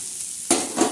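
Onions browning in a hot pan for a black-masala fish curry sizzle steadily up close, with two quick scraping stirs of a spoon across the pan.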